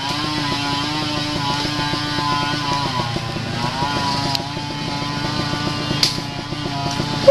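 On a muddy trail at Dona Remedios Trinidad, Bulacan, a trail motorcycle's engine labours in a sustained droning whine with pitch that wavers and dips as it strains.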